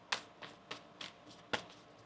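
Tarot cards being shuffled by hand, a series of five or six sharp, close riffling snaps at uneven intervals, quiet and crisp with no talk.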